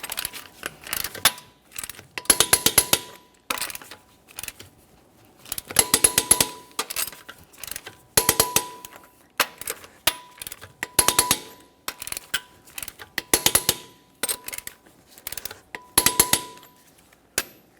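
A torque wrench works on the front wheel lug nuts of a 2017-2024 GMC Acadia, tightened to 140 in a crisscross order. Short bursts of quick metallic ratcheting clicks repeat with pauses between them, close by and without talk.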